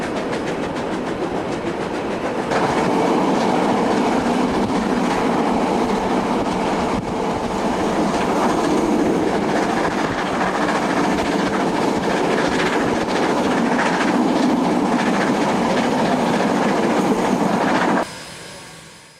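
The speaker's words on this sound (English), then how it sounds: "The gradient steepens and the engine begins to bark as it utilizes all its power" A steam locomotive working hard up a steepening gradient toward Otira, pulling a train: a loud, steady, close roar of exhaust and rolling rumble that holds for about eighteen seconds, then cuts off abruptly, with no voices.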